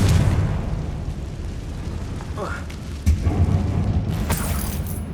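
A Confringo explosion spell in the video game Hogwarts Legacy, cast in a mine: a sudden burst and boom over a rumbling game background, with a voice speaking and a further crackling blast near the end.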